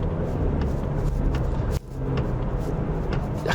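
A Volkswagen T-Roc compact SUV accelerates in normal driving mode, its steady engine and road hum filling the cabin, with a brief dip midway as it shifts.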